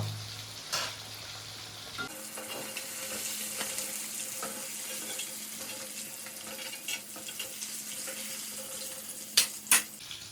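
A whole chicken fries in hot oil in a home kitchen, giving a continuous, fairly quiet sizzle with a few clinks of utensils and no talking.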